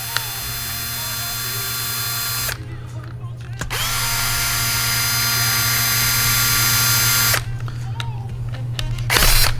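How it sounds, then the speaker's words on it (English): A power screwdriver whirs in long, steady bursts while backing screws out of an MP5 SD6 submachine gun. The motor stops briefly twice, with small clicks and handling noise in the pauses. "It is not advised for you to use a mechanical screwdriver in order to start to disassemble your MP5."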